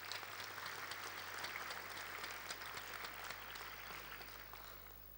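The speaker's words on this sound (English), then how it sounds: "I think he deserves a round of applause." Steady applause from a large audience at an awards ceremony, a continuous dense patter of clapping that holds for the whole stretch and fades slightly toward the end.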